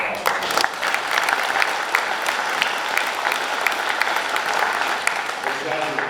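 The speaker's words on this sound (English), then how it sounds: "Let's give them a round of applause." A room full of guests at a SaltCity Racing awards banquet claps in a sustained, dense round of applause, loud and even from start to finish with a few louder individual claps standing out.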